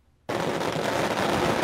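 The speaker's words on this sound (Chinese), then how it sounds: "鞭炮一回合丢，炮声隆隆，" Strings of firecrackers hurled at a dragon dance during Miaoli's Lantern Festival dragon bombing burst in suddenly after a brief quiet, becoming a dense, continuous loud crackle of rapid pops.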